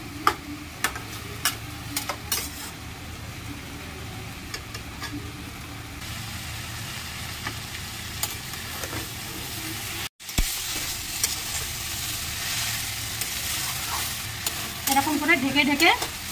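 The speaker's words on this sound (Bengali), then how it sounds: "দেখুন বন্ধুরা, একটু নাড়িয়ে নেবো আবার পাতাকপিটা।" Shredded cabbage with potato frying in a pan gives a steady sizzle under scraping, clattering stirring strokes, with one brief break in the sound and busier stirring near the end.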